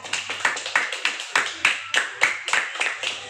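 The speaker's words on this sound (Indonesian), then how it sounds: "tepuk tangan untuk kita semua dulu" A group in a classroom claps in a quick, rhythmic unison pattern, sharp claps landing roughly every third of a second with slight echo, close and moderately loud.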